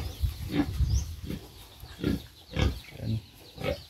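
Piglets in a farm pig pen give a series of grunts and short squeals at close range, repeating every half second or so without speech.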